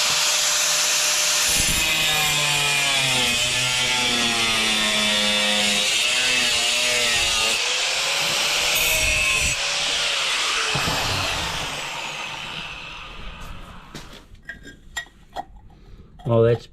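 A power saw trims a ceramic floor tile for a front entrance, a loud steady whine with shifting pitch running for about ten seconds, then winding down into scattered clicks and light handling noises.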